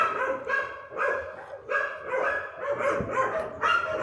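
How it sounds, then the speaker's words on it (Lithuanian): Several dogs bark and yip repeatedly in rapid, overlapping bursts at close range, with a steady chorus of barking sustained across the whole stretch and no talking. "Čia ne šuniukai, čia šunys, žvėris, vilkai."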